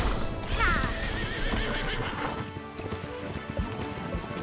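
A game horse in Wildshade: Fantasy Horse Races gives a loud whinny, then galloping hooves drum in rapid rhythm. The clip-clop runs steadily beneath the fading neigh.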